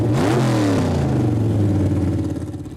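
A Volvo-based classic drag racer with a 7.4 litre American V8 revs loudly up close, its deep engine note rising and falling through a blip before settling into a heavy, lumpy idle.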